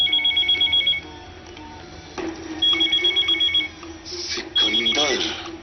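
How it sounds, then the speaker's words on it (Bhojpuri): A telephone rings in repeated bursts of a high, warbling electronic trill, close and clear, with someone talking in the gaps and over the later rings. "फोन"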